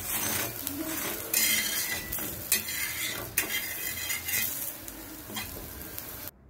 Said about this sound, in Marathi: थोडेसे तेल सोडून त्यानंतर दुसऱ्या बाजूने पण ते भाजून घ्यायचे